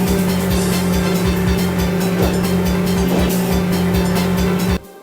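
Engine drone from the 1993 Ridge Racer arcade game, a steady buzzing roar with a repeating pulse, runs loud for about five seconds and then cuts off abruptly.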